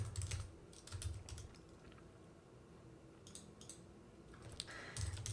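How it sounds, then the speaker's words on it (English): Quick bursts of typing on a computer keyboard in short clustered runs, the keystrokes crisp and close, with pauses between runs, clicking at a library circulation desk. "I'm going to type in my name"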